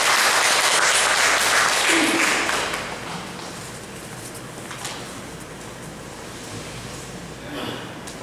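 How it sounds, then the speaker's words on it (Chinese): A church congregation at a Sunday service applauds to welcome a missionary speaker. The clapping is dense and broad at first, then thins and fades after about three seconds into a quieter room with scattered sounds. "那我们用掌声来欢迎我们秦锡安"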